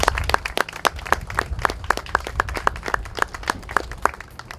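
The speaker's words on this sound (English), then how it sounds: "Please give him a round of applause." A round of applause at a fishing heritage center's fifth anniversary event, sharp individual claps standing out close by in a quick, uneven rhythm over a fuller crowd clapping behind them.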